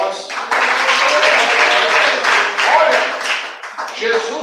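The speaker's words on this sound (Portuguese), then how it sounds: "palmas" A church congregation claps and applauds during a worship service, a dense, steady wash of hand claps lasting several seconds with a brief dip near the end.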